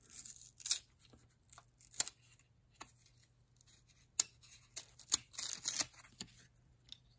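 Sticky 1994 Pinnacle baseball cards are peeled apart one by one, giving irregular crackling rips and short papery tears, close and fairly quiet, with no voices.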